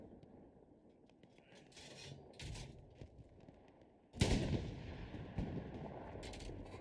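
Artillery in the World War II shooter Hell Let Loose during an esports match: distant rumbling thuds and scattered shots give way to a sudden loud, close boom with a long rolling tail, followed by further heavy blasts.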